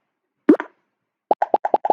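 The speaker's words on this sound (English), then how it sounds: "I want the pop sound." A short pop sound effect from Scratch plays: one deeper plop, then a quick run of about six bright, evenly spaced pops, all clean against silence.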